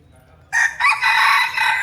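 A rooster crows loudly and close by in a rural village in Chanthaburi, Thailand, one long strained call that starts after a brief quiet moment.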